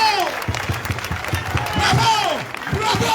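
Applause from a crowd at a union rally in front of a building, a steady patter of claps with scattered cheers, heard close, mixed with voices talking over it.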